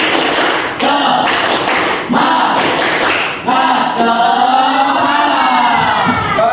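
A school class chants and claps the rhythmic 'tepuk semangat' routine together, loud and close, with sharp clap bursts and shouted voices in a steady pattern.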